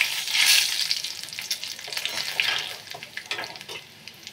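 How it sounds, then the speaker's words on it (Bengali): Whole cumin seeds hit hot oil as the tempering for an onion mutton curry, giving a loud, bright, close sizzle that surges at the start and then settles into steady crackling frying with small pops. "তেল তো অলরেডি গরম আছে, আমি এখন এই ফোড়নগুলো দিয়ে দিলাম।"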